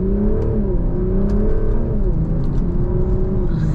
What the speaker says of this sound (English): Put my foot down like a third of the way and it just took off.